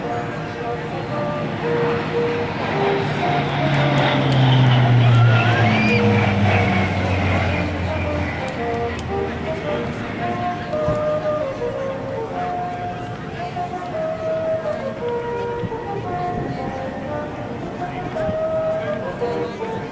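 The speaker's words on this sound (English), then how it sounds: "Great picture of the airplane coming at you right now." A C-130J-30 Hercules of the Rhode Island Air National Guard approaches at an airshow, its loud turboprop drone swelling as it nears and then settling into a steady roar, with a commentator talking over it.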